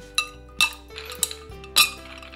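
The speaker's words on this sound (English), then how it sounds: "A few ice cubes in your drink." Ice cubes dropped into a cocktail glass while mixing a brown drink, several distinct bright clinks at irregular intervals over a quiet background hum.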